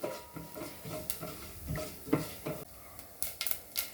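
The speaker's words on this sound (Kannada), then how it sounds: "ಸಾಸಿವೆ ಸಿಡಿಲಿ, ಹಾಗೆಯೇ ಕಡಲೆಬೇಳೆ ಮತ್ತು ಉದ್ದಿನಬೇಳೆ" Mustard seeds, chana dal and urad dal frying in a pan for a festive palya, with a soft sizzle under repeated scraping and clinking of a spoon stirring against the metal pan, close and moderately loud.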